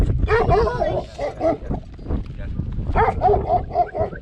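A dog lets out a few short yips and barks in bursts, close by, with brief pauses between them.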